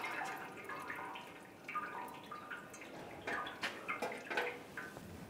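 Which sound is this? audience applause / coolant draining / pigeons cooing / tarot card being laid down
coolant draining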